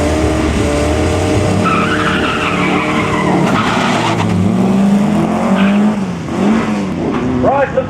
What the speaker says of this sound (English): looks as though the Golf in the left-hand lane gets away, but then misses the gearbox somewhere